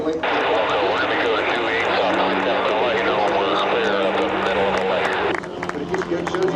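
An American Champion Super Decathlon aerobatic airplane performs loops and rolls at an airshow, its engine droning loud and steady throughout with a slight drop near the end, while crowd noise mixes underneath.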